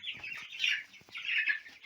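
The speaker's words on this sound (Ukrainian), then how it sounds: "Подивіться, що буває, коли птиця хоче води." Dense chorus of Cobb 500 broiler chickens peeping and cheeping loudly all at once, a noisy flock clamouring for water after going without, heard close up in surging waves.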